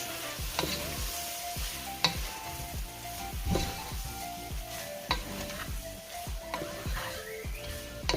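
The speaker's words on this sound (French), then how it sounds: "Là, je vais rajouter aussi mes crevettes. Là, je mélange." Shrimp and vegetables fry in a pan for Thai shrimp fried rice, a steady soft sizzle broken by regular scraping stir strokes about every half second, close and moderate in level, with a faint tonal hum in the background.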